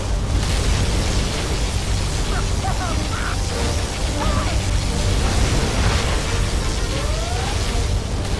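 Battle din from C&C Generals Zero Hour: a particle cannon firing amid explosions, a dense, continuous roar of rumbling blasts and crackling bursts with faint sweeping tones throughout.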